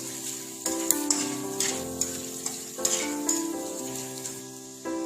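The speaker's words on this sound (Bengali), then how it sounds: "ফোড়নগুলো একটু নাড়াচাড়া করে দেব।" Whole cumin seeds and crushed cardamom sizzle in hot oil while being stirred, a close crackling fry punctuated by repeated scraping and clinking of the utensil against the pan, with no talking.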